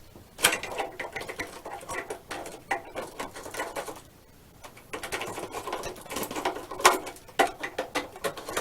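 Screws being driven by screwdriver into an RC plane's motor mount, a busy close ratcheting, scraping patter in bursts with a brief pause midway, no talk.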